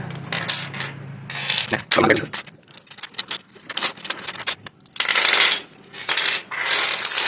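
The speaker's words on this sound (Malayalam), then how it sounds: "ഇതിൻ്റെ സെൻറ്ററും നമ്മൾ അഴിച്ച് മാറ്റി വെക്കുന്നുണ്ട്" A Rubik's cube being unscrewed and pulled apart, its plastic pieces giving off a busy run of clicks, rattles and clatters, with a couple of louder bursts near the end and no talking.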